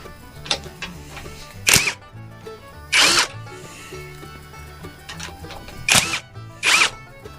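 An impact wrench removes bolts from a Corvair engine in short, sharp bursts of rattling hammering, about five loud bursts spaced a second or so apart, with faint clinks and handling noises between them.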